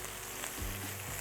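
Blackened shrimp frying in a pan for a po' boy, a loud continuous close sizzle with a soft scrape or shift partway through, no voices.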